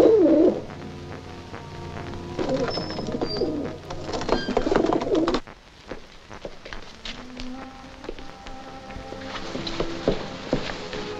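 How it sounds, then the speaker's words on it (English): A pigeon coos in soft repeated calls inside a palace setting, set against steady background ambience and scattered rustling, with no voices. "Release this pigeon as you leave the palace with Her Majesty."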